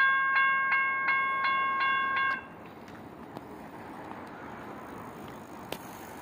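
Railroad scene in Auburndale or Lakeland, Florida: a loud train horn sounds a run of short repeated blasts, then cuts off, leaving only faint ambient rumble with a couple of small clicks.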